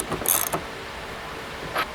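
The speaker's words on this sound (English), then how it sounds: "run it the rest of the way in with the ratchet" A ratchet wrench runs a bolt in on an offroad light bar mount on a bull bar, giving a few short clicking bursts close by, with a gap before a final brief click.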